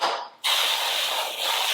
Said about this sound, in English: I will spray